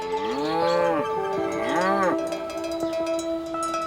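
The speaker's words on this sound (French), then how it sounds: "Vous leur avez suggéré de représenter les vaches que vous voyez au loin." Several cows moo in open countryside seen from a roadside, long drawn-out calls rising and falling in two clear bellows, with a faint clank like a cowbell following.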